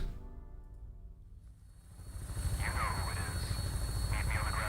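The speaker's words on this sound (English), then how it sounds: "Hey, we're in our lovely vertibird, our lovely helicopter." A vertibird helicopter in the video game Fallout 76 gives off a low rotor rumble that swells louder partway through and holds steady, with faint chirping game sounds above it.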